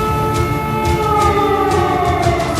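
A sustained wailing air-raid siren over a city under attack drones steadily, loud and unbroken, its tones holding over a low rumbling background with no voices.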